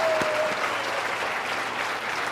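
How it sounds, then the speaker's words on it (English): An audience at a seminar applauds, a dense, even wash of many hands clapping at once, sustained and fairly close, with a brief whistle-like tone near the start. "All right, big round of applause."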